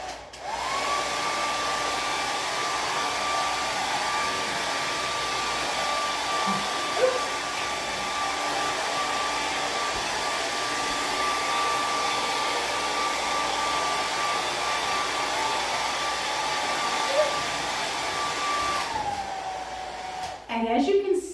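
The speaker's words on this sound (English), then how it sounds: "if I pull the hairdryer away, the balloon starts to come back down again" A handheld hair dryer blows a constant airstream upward to keep a balloon floating, a loud steady whine holding almost unchanged for about twenty seconds before it cuts off near the end with a few handling noises.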